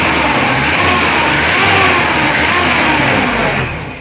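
A car engine runs with a rough, steady roar while the ignition key is held in the start position, stalling if released, loud and close before fading slightly at the end.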